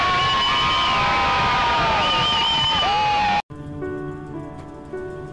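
Packed stands at a high school football game between Penns Manor and Homer Center, a loud, dense roar of crowd noise filling the first few seconds, then a sudden cut to a quieter, steadier wash of background sound.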